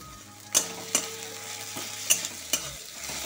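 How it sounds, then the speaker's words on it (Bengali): Spices sauté with garlic and ginger paste in a pan for a chicken dish, a low sizzle broken by several sharp scraping and clanking stirs of the spoon against the pan, close, without talking. "ভালো করে মশলাটাকে কষিয়ে নিয়ে চলো"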